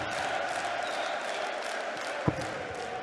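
A darts crowd at a PDC European Tour event in Riesa roars and cheers continuously as a German player wins a leg, a dense wall of noise with one sharp bang.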